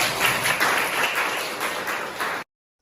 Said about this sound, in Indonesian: Kasih aplaus buat Rega